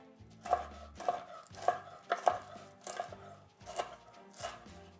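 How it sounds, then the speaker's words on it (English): A knife cuts cooled, crispy bacon into strips on a board. About seven crisp chops come at an uneven rhythm, close and distinct against a quiet background. "And then cut it in a little strips."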